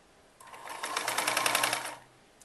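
Sewing machine stitching the sleeve onto a back-neck dori kurti, a steady rapid run of needle strokes lasting about a second and a half, close and clear, starting and stopping cleanly with no talk.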